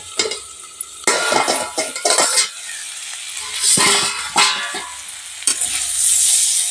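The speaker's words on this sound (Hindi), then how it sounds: "तो अब हम सब्जी को चला लेते हैं।" Cauliflower curry vegetables stirred in a frying pan, with repeated scraping strokes of a spoon against the pan over a continuous sizzle, close and fairly loud, no talk.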